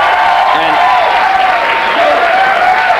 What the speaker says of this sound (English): That seems like a cheap way to get applause, which it is.